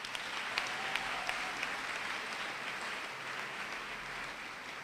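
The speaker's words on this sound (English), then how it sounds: "Fellow graduates, our wonderful lecturers deserve an applause." Audience at a University of Ghana graduation ceremony breaks into sustained applause, a dense wash of clapping heard from a distance with a few sharper claps standing out.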